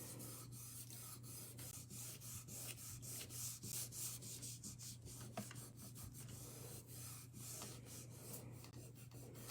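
Gold leaf sheet rubbed onto tacky polymer clay, a quiet close-up dry scratchy rubbing in repeated quick strokes, steady throughout with no voice.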